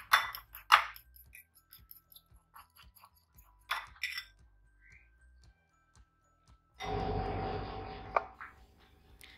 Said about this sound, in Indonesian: setelah itu kuning telur dikocok lepas